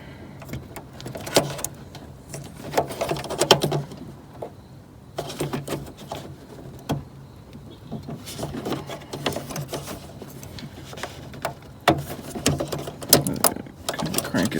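Plastic clicks and ratcheting knocks as a headlight bulb is twisted side to side in the housing of a W211 Mercedes-Benz E350, close and irregular, in bursts with quiet gaps and no talking.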